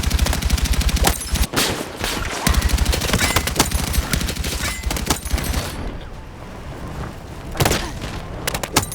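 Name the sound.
gunfire from DRS IAR rifle in Battlefield 6 video game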